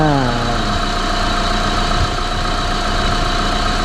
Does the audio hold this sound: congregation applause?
no